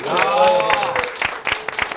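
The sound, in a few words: audience applause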